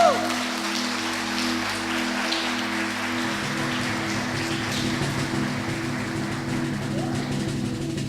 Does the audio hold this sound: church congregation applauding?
yes